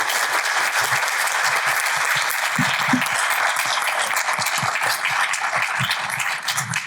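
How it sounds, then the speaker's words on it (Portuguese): An audience at the Brazil Conference at Harvard 2024, during a health-systems panel, breaks into sustained applause: dense, steady clapping from a large crowd that fills the whole stretch at an even, loud level. "Palmas para o Drauzio, gente."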